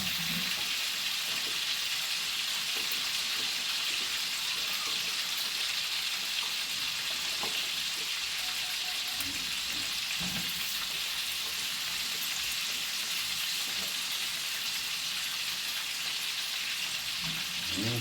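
Potatoes fry in hot grease in a pan, a steady, even crackling sizzle that runs throughout, with a few soft stirring knocks and no voices.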